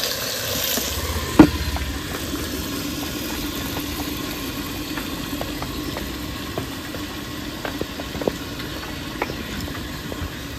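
Potatoes frying with country chicken in a clay pot over a stove, giving a steady soft sizzle with occasional clinks and stirring taps, fairly close and without talk.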